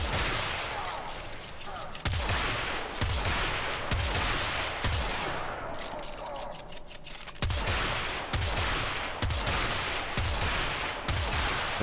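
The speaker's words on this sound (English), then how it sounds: "I would go ahead and do like maybe 15 shots of the air burst" Air burst weapon in a video game firing a long series of repeated shots, each blast loud and close with a sharp onset, spaced roughly evenly over a steady bed of in-game noise.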